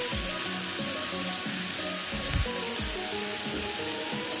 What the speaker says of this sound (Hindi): इसे पूरा ऐड करेंगे राइस को और लाइट से मिक्स करेंगे।